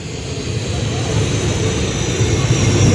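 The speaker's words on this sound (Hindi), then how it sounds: "जहां पर अब रनवे की तरफ बढ़ रहा है MiG-21 रूसी विमान, सुपरसोनिक विमान" A MiG-21 Russian supersonic jet taxis toward the runway at Pathankot air base, giving a steady, loud engine roar and rumble that holds through the whole stretch.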